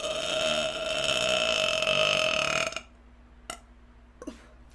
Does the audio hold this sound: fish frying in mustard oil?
no